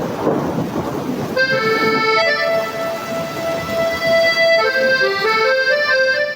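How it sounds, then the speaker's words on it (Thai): Steady rain and low rumbling thunder fill the background throughout, overlaid by sustained melodic tones from a song playing along with it. "ยินเสียงฝนยินเสียงฟ้าห้อง"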